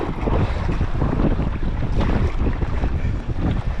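Strong wind buffets a sea kayaker paddling along a cold coast, a loud, continuous low roar and rumble of gusts against the microphone mixed with wave wash, unbroken and close.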